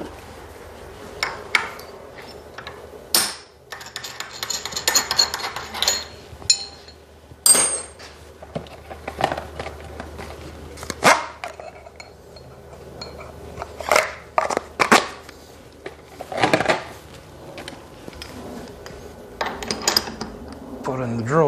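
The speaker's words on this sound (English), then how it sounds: "Put in the drill chuck." Metal tooling clinks and clanks on a milling machine as an end mill is removed and a drill chuck fitted, with scattered sharp taps, rattles and knocks in an irregular rhythm, close and without voices.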